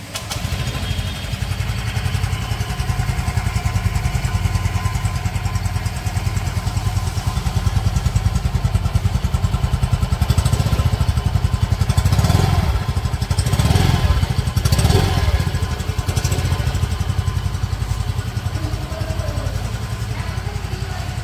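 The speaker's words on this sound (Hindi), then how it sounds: "अब इसके एग्जॉस्ट साउंड सुन लेते हैं।" Yamaha Ray ZR Street Rally 125 hybrid scooter exhaust, a steady near idle hum with a couple of short throttle blips in the middle, no talking.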